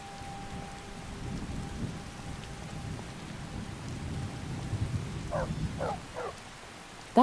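Video game rain in VR Skyrim falls steadily with a deep, low rumble of thunder, and a few short dog-like yelps sound near the end.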